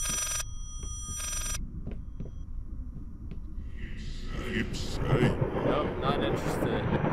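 An old telephone rings in the video game Layers of Fear, two bright bursts of ringing early on, followed by low ambient rumble and a person speaking over the later part.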